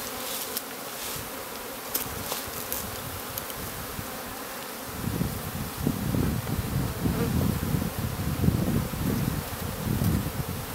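Honey bees swarm close around a newly installed hive box, a dense, steady buzzing that swells louder in the second half as more insects crowd near, with no talking.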